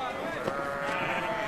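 Sheep bleat in the film Brokeback Mountain, a sustained wavering cry over a continuous background of flock and soundtrack noise, with a person talking over it.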